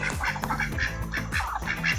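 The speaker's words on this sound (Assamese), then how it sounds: "আৰু হাঁহ দেখিলোঁ" Village ducks quack close by in a rural Assamese setting, a quick run of rasping, repeated calls with no one speaking.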